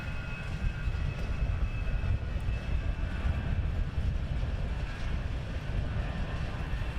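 A departing aircraft at London Luton Airport gives off a steady, moderately loud engine roar heard from a distance, holding constant throughout without speech.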